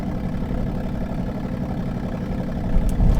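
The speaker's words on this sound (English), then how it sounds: "It sounds like it's got quite the exhaust leak, if anything" Donk car idling roughly with an exhaust leak, a steady low rumbling drone that stays close and even, rising slightly near the end.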